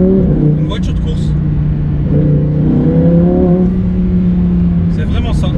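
A Lamborghini race car engine revs loudly and close by in sustained, rising and falling bursts, with a voice talking over it.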